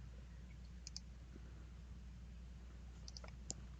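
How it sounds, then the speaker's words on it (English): A few sparse, faint clicks of typing on a computer keyboard in a quiet room, short taps scattered over a steady low hum. "So I'm going to type in"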